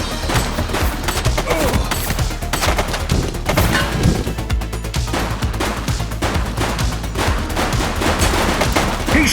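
A suspect fires a gun in The Precinct police game, a dense, continuous barrage of loud shots and rapid automatic bursts with crashing impacts, sustained for several seconds without letup.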